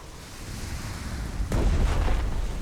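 Naval guns and torpedoes firing in the Pacific war strategy game Strategic Mind: The Pacific, a sudden heavy boom midway that lifts into a sustained loud rumble over steady background noise.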